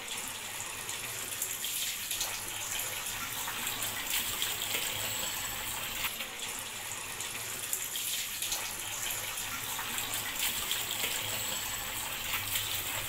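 Tap water runs in a steady, close gush while radish greens are washed in a sink, continuous and fairly loud with no talk.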